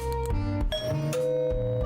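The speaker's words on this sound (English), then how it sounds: "Ding dong." A chiming doorbell ding-dong in the horror restaurant video game Dead Plate, tonal and ringing over a steady musical background, with no talk.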